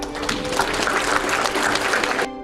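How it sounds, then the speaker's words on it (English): An audience breaks into steady, dense applause at a leadership talk, continuous clapping that fills the room and cuts off abruptly at the end. "Give yourselves a round of applause."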